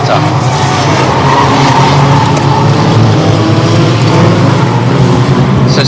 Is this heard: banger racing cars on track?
yes